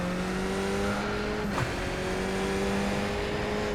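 A race car in the iRacing simulator on the Adelaide street circuit, its engine holding a loud, steady high drone at full throttle throughout, with a brief dip and rise in the middle; no talking.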